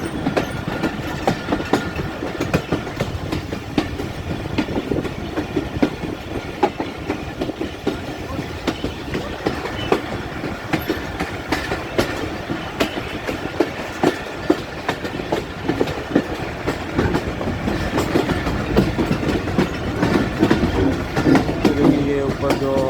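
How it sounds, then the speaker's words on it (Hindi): Hazara Express train pulling into Rawalpindi railway station, a steady rolling rumble with continuous clickety-clack of wheels over rail joints, loud and close throughout, with faint voices in the background. "हज़ारा एक्सप्रेस रावलपिंडी रेलवे स्टेशन पर अप्रोच कर रही है।"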